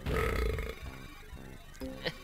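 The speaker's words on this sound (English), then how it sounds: "I don't know why every key on this keyboard is a different tone of burp" Burp-toned keyboard keys in Donkey Kong 64, a long low belch-like note followed by a few shorter burp tones played one after another at moderate loudness, with no talking.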